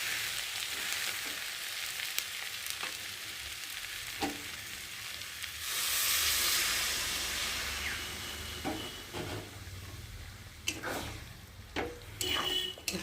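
A little water hits a hot kadai of banana flower and potatoes, bursting into a loud hissing sizzle midway that fades back to steady frying, with scraping stirs and clanks of the spoon afterward.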